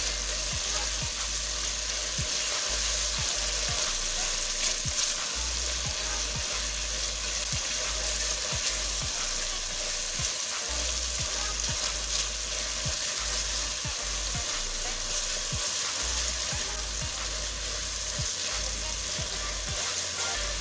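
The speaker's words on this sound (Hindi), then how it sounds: "ये देखिए हम मसाले को जैसे जैसे भून रहे हैं, ऑयल बाहर आता जा रहा है इसका" Masala and tomatoes sizzle steadily in hot oil in a home kitchen, a dense continuous frying hiss close by, with occasional soft stirring scrapes throughout.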